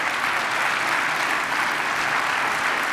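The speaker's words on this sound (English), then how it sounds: "Warm round of applause" A crowd claps steadily and warmly at the San Diego Convention Center's 25th anniversary celebration, a dense, sustained wash of applause filling the room.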